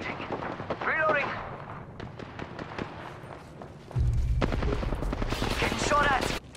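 Apex Legends firefight with bursts of rapid gunfire and heavy booms, loud in the latter half, interleaved with sharp single shots and in-game character voices speaking over the action.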